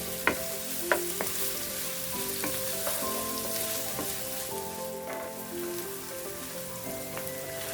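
Tomatoes frying in a pan for a Thai egg curry crackle and sizzle continuously, with bright popping spatters and a few sharp utensil clinks early on, close and moderately quiet.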